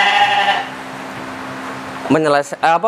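A farm sheep gives a clear, close bleat at the start. After a quiet gap with a faint hum, a second wavering bleat follows.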